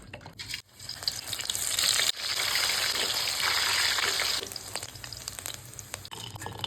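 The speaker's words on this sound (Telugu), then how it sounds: "ఈ బాండీలో నూనె పోసి దొర దొరగా బయటికి తీసుకుందాం" Hot oil sizzles loudly as food frying bubbles and crackles in a steady rush, then settles to a quieter sputter.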